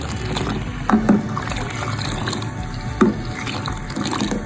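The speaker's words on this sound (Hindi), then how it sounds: "ये मैं पानी डाल रही हूँ" Water pours and splashes into a pot of Kashmiri pink tea in short bursts, with a steady low background hum throughout.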